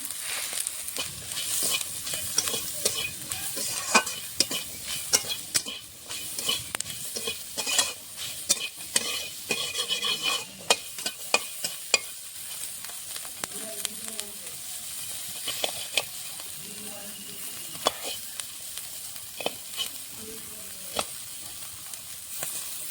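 Chillies frying with black cumin, turmeric and salt in a pan for a prawn curry, stirred with a metal spatula: a continuous close sizzle punctuated by frequent sharp scrapes and clicks of the spatula against the pan, with no talking.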